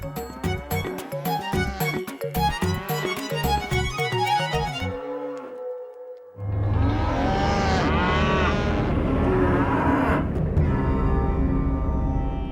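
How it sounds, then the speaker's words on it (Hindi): Cows lowing in a pastoral setting, with long loud moos swelling over each other in the second half, after a stretch of plucked and melodic instrumental music with no talking. "सभी गाय रंभा रही हैं।"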